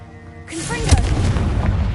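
Confringo fire spell in the game Hogwarts Legacy, a rising whoosh that bursts into a deep booming explosion with a crackling, rumbling tail, loud and close.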